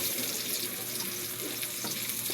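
Ginger, garlic and onion sizzling and frying steadily in a hot pan, a continuous close crackle with no talk.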